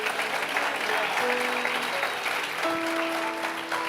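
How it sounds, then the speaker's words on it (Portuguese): Applause from a church audience during a sermon: a steady wash of many hands clapping, moderately loud and continuous, with faint voices blended underneath. "aplauda mais forte"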